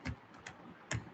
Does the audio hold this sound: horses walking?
no